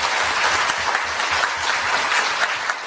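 Audience at a Democratic Party forum on the candlelight protests breaks into a burst of warm applause, dense clapping from a full room filling the space steadily.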